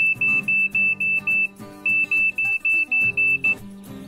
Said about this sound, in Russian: вот телефон просигнализировал о том, что курица у нас готова